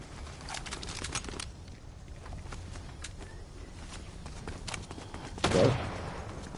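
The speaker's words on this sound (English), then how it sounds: "Oh, I hear gunshots." Gunfire in the PS5 battle royale game Fortnite, a scatter of sharp distant shots popping across a steady game ambience, with a louder burst near the end.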